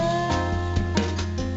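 A short stretch of crunchy, lo-fi music bitcrushed to 11.2 kHz 8-bit, with muffled highs and thumping low notes, steady and brief.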